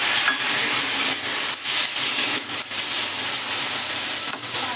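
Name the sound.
boiled chickpeas stirred in a pan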